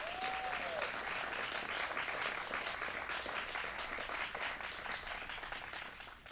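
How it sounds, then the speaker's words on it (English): Steady applause from an audience at a Westchester County bill-signing event honoring Senator Andrea Stewart-Cousins, a dense sustained clapping that fades slightly toward the end. "Let's give her a round of applause."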